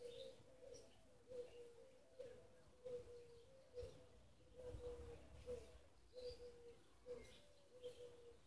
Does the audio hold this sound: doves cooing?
yes